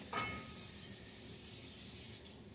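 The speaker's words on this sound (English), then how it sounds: "So I'm going to do cooking spray." A close, steady hiss of an aerosol cooking spray greasing a 9x5 loaf pan, lasting about two seconds, then cutting off abruptly.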